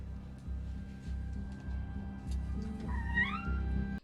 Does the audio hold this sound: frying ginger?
no